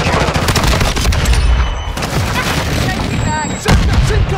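Call of Duty Modern Warfare 2 multiplayer friendly air strike: dense, loud rolling explosions and continuous rapid gunfire blend into a constant battle roar, with a sharp fresh blast near the end.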